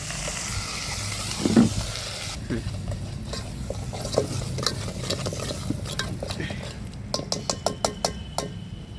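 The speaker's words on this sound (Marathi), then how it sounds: "मस्त तळू देऊ का आपल्या मसाल्याला." Garlic and masala sizzle and fry in a pan in a village kitchen, with a steady crackling hiss broken by a spoon stirring and clinking against the metal, growing busier toward the end.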